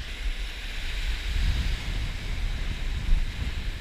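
Steady wind rushing over a beach during fall surf fishing, with a low rumble of surf and buffeting against the microphone, continuous and fairly loud, no voices.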